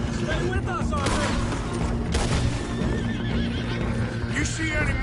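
Horses whinny and neigh several times in Red Dead Redemption 2, with hooves clip-clopping underneath and a busy game soundtrack.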